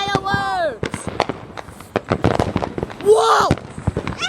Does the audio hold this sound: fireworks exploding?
yes